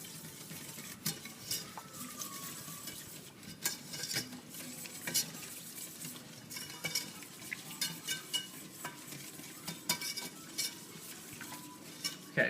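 Flour is stirred into gravy in a hot pan on a stovetop, giving a steady scraping and clinking of utensil against metal with faint sizzling throughout, moderately close and alone.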